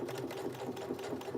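A sewing machine stitching through a thick layer of jacket fabric at a slowed pace, its needle clattering in a quick, even mechanical rhythm, close and steady with no talking.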